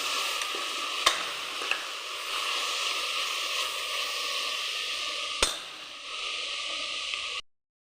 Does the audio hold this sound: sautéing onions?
yes